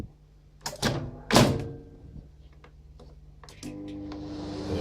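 Microwave door on a roadside microwave with a likely blown magnetron, a couple of sharp clunks of opening and closing, then beeps and a steady hum starting near the end.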